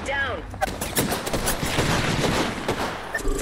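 Rapid bursts of video game gunfire crackle loudly through a close firefight in a ranked online shooter match, with a brief voice at the start.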